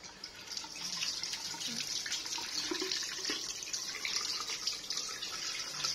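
Water runs steadily from a tap in a mall restroom, a continuous hissing splash lasting several seconds, close by, with no talking.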